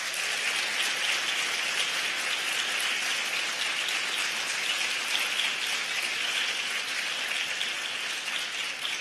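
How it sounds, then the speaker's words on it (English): An audience at an award ceremony for distinguished service in international education claps in steady, dense applause that holds evenly throughout, sounding like a continuous wash with no talk over it. "What a great round of applause for this early in the morning."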